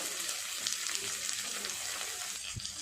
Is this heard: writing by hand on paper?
no